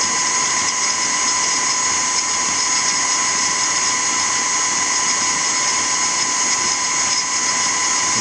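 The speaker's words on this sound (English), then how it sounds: "I do want to whisk it enough to get to that" Electric mixer whisking cream for chouquettes, a steady high-pitched motor whine running continuously and close throughout, with no talking.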